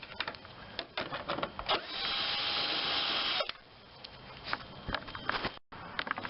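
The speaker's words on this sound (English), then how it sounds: "Now I can start taking screws out." Screws being removed from the front bumper cover of a 2009-era car, heard as a buzzing power driver in bursts with a long steady run in the middle, plus small clicks and rattles of parts close by.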